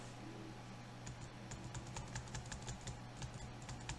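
Rapid keystrokes on a computer keyboard while finishing a Moodle server installation, an irregular run of close, crisp clicks over a steady low hum.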